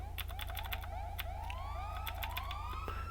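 A rapid rising-and-falling police siren yelp repeats steadily over a constant low hum, with sharp keyboard clicks tapping along.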